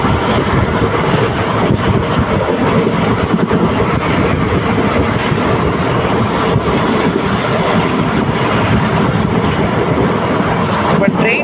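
A passenger train running at speed between Dindigul and Udumalaipettai, heard from inside as a loud, steady rushing roar with faint rhythmic clatter, continuous throughout.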